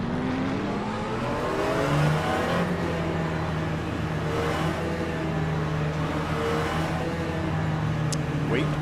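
Race car engines rumble through a Le Mans Ultimate formation lap in a GT3 field at Sebring, a steady low drone with rising revs, while a voice talks over them throughout.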